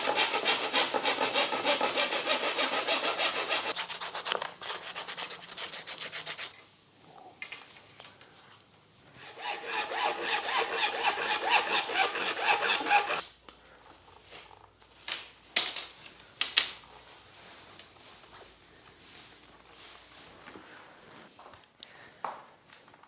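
Tubing for a large kite's centerpiece is sawn by hand in fast, steady strokes, two long loud bursts separated by a pause, followed by quieter scraping and handling noises.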